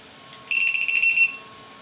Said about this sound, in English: this is an alarm that lets you know if the LiPo gets too low